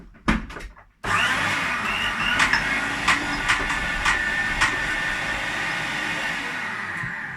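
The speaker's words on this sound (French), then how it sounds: "j'ai mis tous les ingrédients, la courgette, les épices. Je vais mixer." A kitchen blender whirs loudly and steadily as it blends zucchini and spices for raw sesame hummus. It starts after a second of short knocks and keeps an even, close drone with a few sharp clicks.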